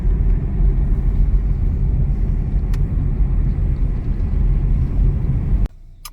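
A car driving along a road on the way to church, heard as a steady, loud low rumble of engine and tyres from inside the vehicle that cuts off abruptly near the end.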